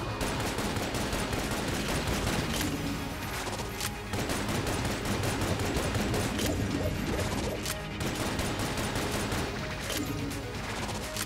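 In the video game Enter the Gungeon, the Frost Giant gun fires constantly, making a dense, loud barrage of crashing shots and rapid pops that continues almost without pause, with no voices over it.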